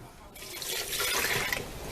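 Water, about a cup and a half and slightly warm, pours into leftover bread starter as a steady close splashing hiss that starts abruptly and runs to the end.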